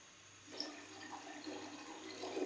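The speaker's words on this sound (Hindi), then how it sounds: "2 कप हम पानी इसमें ऐड करेंगे" Water runs into a cooking pot for rice, a faint, steady splashing pour that swells slightly as it goes on, with no talking.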